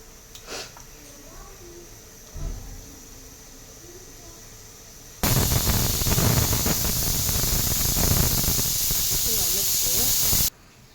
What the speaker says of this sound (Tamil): முட்டை வந்து விசில் வந்துருச்சு.